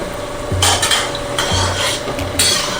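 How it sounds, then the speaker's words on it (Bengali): Palm fruit fritters (taler bora) fry in oil under a soft hiss, while a utensil scrapes and clinks against the pan in a few distinct stirring strokes, with no talk. "একইভাবে এই ব্যাচটাও ভেজে নিচ্ছি"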